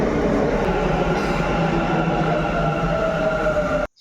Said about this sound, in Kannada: Guys ಮೆಟ್ರೋಗೆ wait ಮಾಡತ್ತೇವಿ.